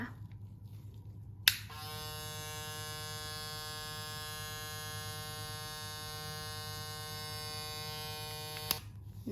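A Wmark NG-9002 cordless hair clipper switches on with a click and runs at a steady, close, bright motor buzz for about seven seconds, then clicks off, with no talking.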